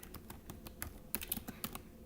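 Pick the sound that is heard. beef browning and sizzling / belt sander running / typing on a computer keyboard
typing on a computer keyboard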